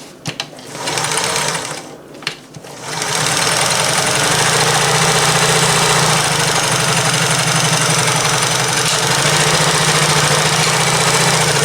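A vintage Sears Kenmore 158 mini sewing machine stitches fabric with a loud, steady mechanical whir and rapid rhythmic clatter, starting and stopping briefly at first, then running continuously up close.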